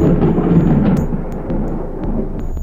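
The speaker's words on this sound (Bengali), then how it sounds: "আজকের ভিডিওতে আমরা জানব বজ্রপাত কি এবং কেন হয়" A deep, continuous rumble of thunder rolls heavily and loudly through the whole stretch, with no voices present.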